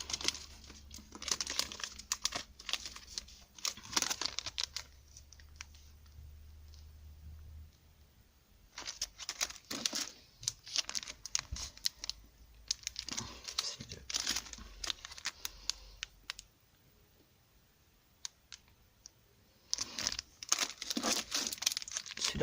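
A crinkly plastic-wrapped package is opened in close, loud bursts of crinkling and tearing that come in several stretches separated by quiet pauses.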